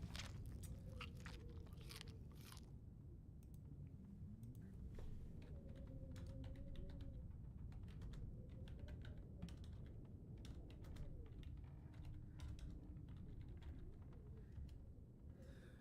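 Steady computer keyboard typing, quiet and continuous clicking throughout, with faint background hum and no talk.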